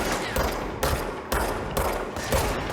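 Gunfire in the video game Control, with five evenly spaced heavy shots about half a second apart, each loud and close above a constant roar of background action and no talking.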